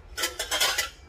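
Washed pots and dishes are put away in a home kitchen, giving a few close, bright clinks and clatters in quick succession with no talking.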